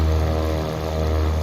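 Twin engines of a Cessna 414AW Chancellor in Microsoft Flight Simulator run at a steady idle, a loud, close propeller drone with a constant low hum and layered harmonic buzz.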